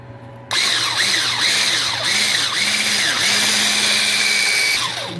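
Egg yolks and sugar beaten for butterscotch schnapps eggnog with an electric mixer, which switches on abruptly into a steady, close, whirring motor whine with a cyclic wobble as the beaters work the bowl, then eases down at the end.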